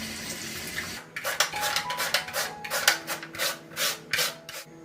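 A peeled radish is grated into fine shreds with a repeated rasping scrape, a rhythmic run of close strokes following a brief quieter stretch.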